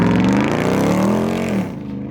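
A Ram 1500 TRX pickup with a 6.2L Hemi V8 launches hard, its engine roaring loud and close in one rising pull that falls away toward the end.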